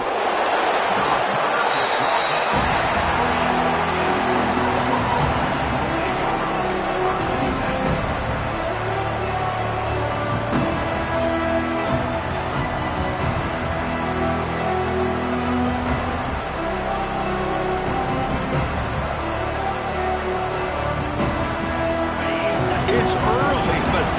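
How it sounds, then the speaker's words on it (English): A football stadium crowd at a Sooners game roars continuously for over twenty seconds, a loud, dense wall of cheering and babble with music-like tones and chatter mixed in. "It's early, but this crowd is fired up. Listen to this noise here."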